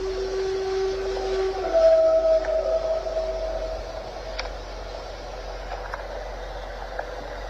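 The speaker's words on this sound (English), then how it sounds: "At first, the strange howling noise sounds like a pack of wolves or something like that." Eerie drawn-out howls rise and waver at night near a highway rest stop, like wolves or coyotes, two long tonal cries in the first few seconds over steady background hiss, then fading.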